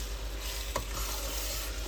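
About a kilo of beef in masala is stirred as it fries in a pan, giving a quiet, steady sizzle broken by one soft scrape of the spoon.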